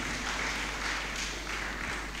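Sustained applause fills the hall at a Golden Jubilee church celebration as the congregation claps for the parish priest, a dense, steady roar of many hands with no gaps, loud and even throughout.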